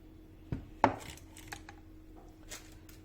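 A spoon moves cream onto a no-bake cheesecake. Two sharp clinks of metal against a dish stand out, followed by softer scraping and light taps in a quiet kitchen.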